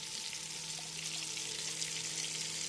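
Bay leaves fry as a tempering in a little hot oil left from frying prawns, a soft, even, close sizzle heard alone over a faint steady hum.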